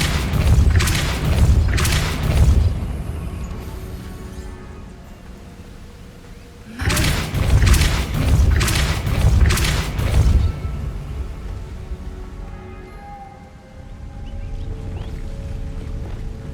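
Depulso force spell cast in Hogwarts Legacy, landing as two loud booming bursts of thuds and whooshes several seconds apart, each with rapid crackling hits, over a low ambient game rumble.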